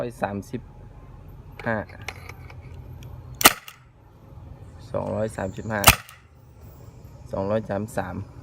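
A WinGun 708 air pistol fires two sharp, loud snaps several seconds apart, with someone speaking between the shots.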